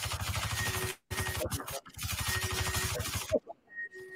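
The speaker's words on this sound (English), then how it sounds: "I'm having a hard time hearing you because there's so much gunfire." Rapid video game gunfire in bursts of fast automatic shots, loud and close, broken by brief pauses and ending in a few single blasts, with voices talking over it.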